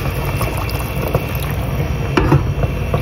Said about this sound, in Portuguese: Água fervendo, tá?